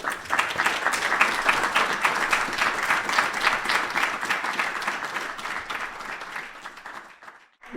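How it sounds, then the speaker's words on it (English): An audience at a music symposium applauds a singer after a song, a steady wash of many hands clapping that holds strong, then thins and fades out near the end. "Round of applause for Richard, please."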